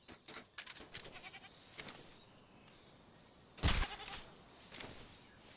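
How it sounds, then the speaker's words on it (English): A goat bleats in the Metal Gear Solid Delta video game, several short quiet calls early on, then one louder bleat near the end, set against faint ambient background. "It's a goat."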